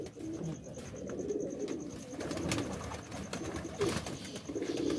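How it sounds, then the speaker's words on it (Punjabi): A Salara pigeon coos in low, repeated rolling phrases close by, with a few other bird sounds and no talking. "ਇਹ ਜਿਹੜਾ ਸਲਾਰਾ ਕਬੂਤਰ ਆ ਵੀਰ ਜੀ"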